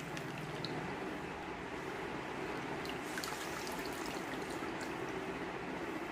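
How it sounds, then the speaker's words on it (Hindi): Continuous watery sloshing and trickling close by as a makeup beauty blender sponge is dipped in water, a steady liquid sound with no voices. "इसको इस तरह अच्छे से पानी में डिप करना है।"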